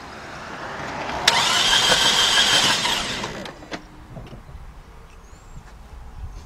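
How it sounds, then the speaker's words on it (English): A 2009 Toyota RAV4 with the 2.5 engine, which burns oil and has a misfire, cranks over for about two seconds: a loud, steady starter-motor whir that cuts off, then a few faint clicks and quiet background. "Then I'm gonna just crank it over for a second or two."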